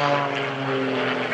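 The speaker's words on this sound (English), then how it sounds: "Gary Ward holds the airplane inverted." Gary Ward's aerobatic propeller airplane performing inverted at the 2015 Greenwood Lake Airshow, a loud steady droning engine with a strong buzzing tone, close and sustained, with a voice talking over it.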